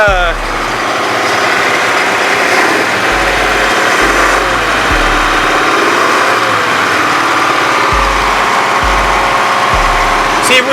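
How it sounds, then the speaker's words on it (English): A vehicle engine runs loud and close after an oil leak repair. It idles with a rough steady drone, and the revs rise and fall a little. Someone talks over it. "Trying to get her revved up a little bit"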